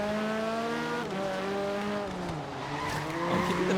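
Forza Horizon 3 race car sliding into a drift, tires squealing in a long, wavering pitch over a steady engine drone, with the squeal bending down and up as the slide shifts.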